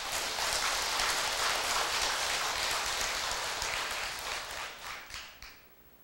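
Audience applause fills a temple hall during a Buddhist sermon, a dense steady clatter of many hands that tapers off and thins into scattered claps near the end.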